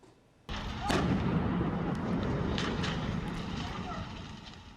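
A burning house exploding while firefighters respond, heard as a sudden heavy blast followed by a long, loud rumbling roar that slowly fades, with a voice beneath it.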